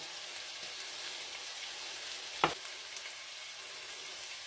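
Chopped onions frying and browning in a pan for a slow cooker Guinness stew give a faint, steady hiss, with one brief sharp clink partway through and no talk.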